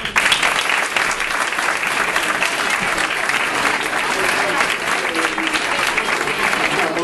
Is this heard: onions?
no